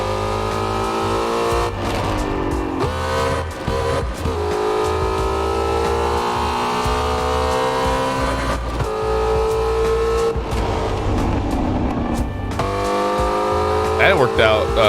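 A 770-horsepower Ford Mustang GT350 in the Assetto Corsa racing game roars loudly through traffic, its engine rising and dropping through gear shifts, with brief tire squeal and someone talking over it.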